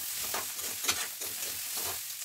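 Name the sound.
stirring onions and small fish frying in a pan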